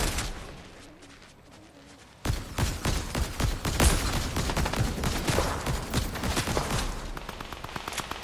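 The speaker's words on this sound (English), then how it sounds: "Somebody shooting me from the back side over here." Fortnite gunfire rattles in rapid, loud volleys after a quiet opening, with dense repeated shots and bursts continuing steadily to the end.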